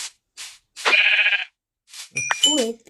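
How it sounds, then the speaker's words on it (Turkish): Sheep in the Minecraft video game bleat in short, wavering calls. One long, strong bleat stands out among fainter ones, followed by bright chiming game tones and another bleat, with gaps of silence between. "Koyun o da koyun ya."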